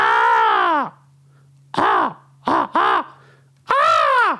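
A voice imitates crows cawing, giving five loud, close, nasal caws: a long drawn-out call, then a pause, two short bursts, a third, and a final long caw, with no other voices.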